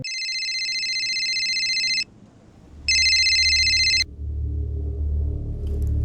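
Telephone ringing with two loud electronic ring bursts separated by a pause, each about a second long, over a low rumble, with no talk.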